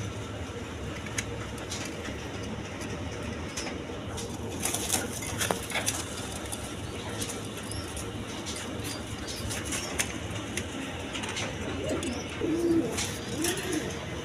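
Breeding pigeons, a pair of kakji and golla birds kept for sale, coo steadily over a constant low background hum, with soft rolling calls close by and no talking.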